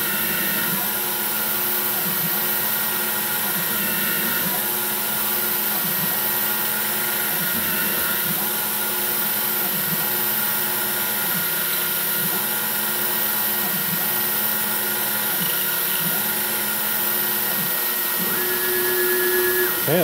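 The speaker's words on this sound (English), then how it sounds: "I was very conservative with this drill cycle, so it's chip breaking and full retract because I did not want to jam up the flutes." Milling machine running a conservative chip-breaking drill cycle with full retract on steel jaw stock, a steady machine hum with regular pecking pulses repeating about every two seconds throughout.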